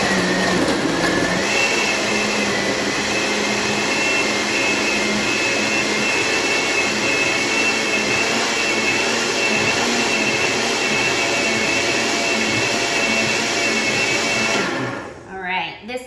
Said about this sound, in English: And now just go ahead and blend that up again, depending on your blender, for about 30 seconds or so.